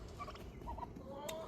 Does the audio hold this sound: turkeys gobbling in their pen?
yes